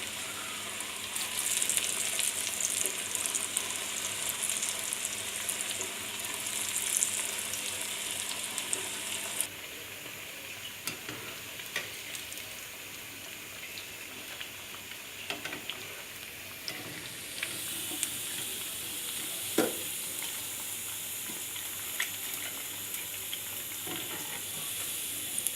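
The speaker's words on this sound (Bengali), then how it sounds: "বাকিগুলো ভেজে নিচ্ছি" Onion fritters (peyaju) fry in hot oil with a steady close sizzle and crackle that carries on throughout, broken by occasional sharp clinks and stirring knocks, with no voices.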